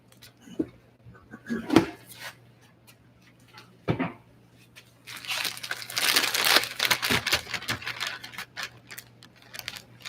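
Crinkling plastic freezer bag handled up close, starting with scattered rustles and clicks, then a long burst of dense crackling as the bag is pressed flat.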